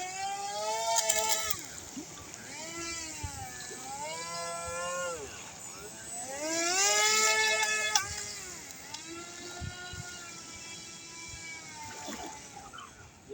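A small amphibious flying car model runs in boat mode on water, its motor whining and rising and falling in pitch as it turns, fairly close, with brief bursts of water noise.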